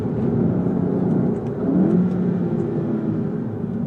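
A Volkswagen Golf GTI 7.5 accelerates hard, its engine roaring steadily and loud from inside the car, with the pitch climbing through a quick gear change.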